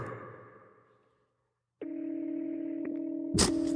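A telephone handset emits a steady, loud dial tone after a brief moment of silence, with a quick keypress tone and click near the end as a call is being dialed.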